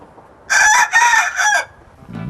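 A fighting-breed rooster crows once, loud and close: a two-part call followed by a long drawn-out note, then a faint cluck afterward.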